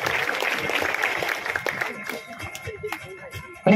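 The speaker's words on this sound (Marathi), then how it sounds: "जोरात टाळ्या झाले पाहिजे." Audience applause at a marathon prize ceremony held for Chhatrapati Shivaji Maharaj Jayanti, with scattered, uneven clapping from a crowd and a sharp burst near the end.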